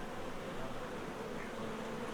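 A dense, steady buzz of bees from a rural Iranian mountain hive, close and continuous with no pauses or voices.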